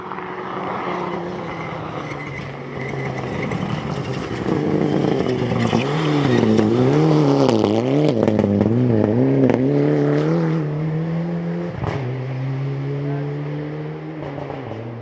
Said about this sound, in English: Lachlan's car did not sound fantastic. If you got some audio on that, it sounds like that on purpose. That's an anti-lag system